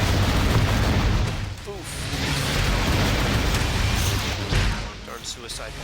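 A suicide bomb robot blows up in the video game Descent 2, a loud booming blast up front that rumbles and fades, followed by softer crackling bursts, with a voice exclaiming over it.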